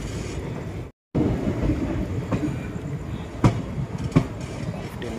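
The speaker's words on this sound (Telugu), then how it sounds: "ట్రైన్ అయితే ఇప్పుడు మెయిన్ లైన్లోకి అయితే ఎంటర్ అయిపోతుంది" The 12746 Secunderabad SF Express entering the main line at Dornakal Junction, heard from aboard as a steady rumbling rolling noise with occasional clanks and a brief dropout, without talk.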